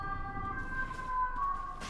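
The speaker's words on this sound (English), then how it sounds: "I know it's sirens." A wailing siren sounds in the distance, its pitch wavering up and down over faint background noise.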